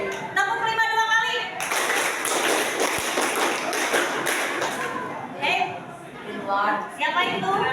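Classroom pupils clap together in short bursts during a counting clap game, with a teacher's voice before and after the dense round of clapping.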